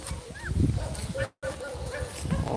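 Dogs bark and yip near a rural house in the Philippines, short repeated woofs with whimpering yelps, fairly close, with a brief gap of silence midway.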